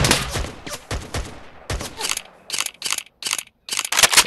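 Gunfire in a Minecraft game, a rapid string of loud shots in bursts separated by short pauses, close and punchy with no talk over it.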